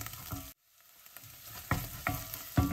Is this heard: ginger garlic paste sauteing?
yes